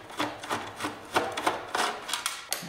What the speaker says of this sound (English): Removing the back body screws I put in to help adjust the height of the bumper we put in.